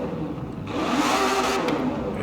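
Upgraded 2012 Aston Martin Vanquish engine revving loudly up close, a steady rising roar that swells after the first half-second and holds strong to the end, with no talk over it.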